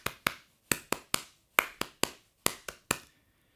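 Reverse three-stroke ruff fills on drums in a straight feel: about a dozen sharp, crisp strokes in quick clustered groups, close and clean with no voices.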